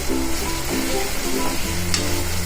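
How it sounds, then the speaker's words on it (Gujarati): Two finely chopped onions sauté in a pan for palak paneer ghotala, giving a steady, close, loud sizzle and crackle of frying throughout with no talking. "આપણી ડુંગળી એકદમ સરસ સોટે થઈ ગઈ છે"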